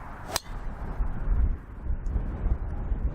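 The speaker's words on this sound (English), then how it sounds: "with the strength of this wind now building up" Strong wind gusts across an open golf course at Ogbourne Downs Golf Club, a steady low rumble buffeting the microphone and swelling and easing, with one sharp tap near the start.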